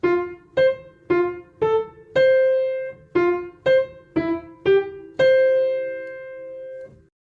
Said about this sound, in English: Let's start by learning the first two measures of the melody.